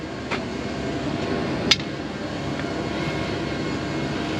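A steady, forceful hiss of compressed air blowing dust off a combine, continuous, with a couple of sharp clicks near the start.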